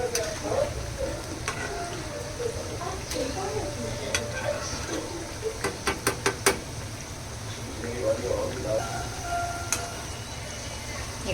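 Vegetables pan-roasted until golden in a Shravan-special satvik meal, a steady sizzle with scattered clinks and scrapes of a utensil against the pan while someone talks over it.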